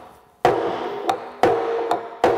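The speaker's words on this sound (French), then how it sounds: "on va resserrer les cercles avec notamment nos 2 outils principaux qui est la chasse et le marteau" A cooper drives the hoops tight on a wooden barrel with a hammer and a hoop driver, giving three loud ringing metal strikes about a second apart, each followed by a lighter tap.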